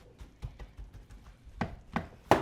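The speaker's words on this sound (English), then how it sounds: "we're just going to mash it down in the pan here" Buttery Rice Krispies treats being pressed and mashed down into a pan, heard as a run of soft, uneven thumps and scrapes that grow louder toward the end, with no talking.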